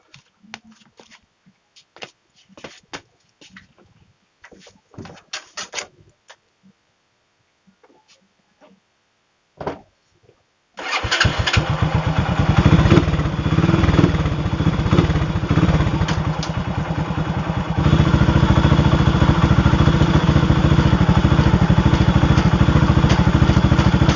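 Motorcycle with a loose, wobbling swing arm: after some quiet knocks and clatter, the engine starts and settles into a loud, steady idle, its pitch shifting once partway through.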